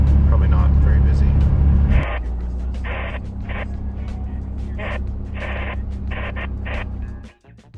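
A pickup truck with weight loaded in the back drives along, its steady low engine rumble loud and close throughout, louder for the first two seconds, with bursts of speech over it.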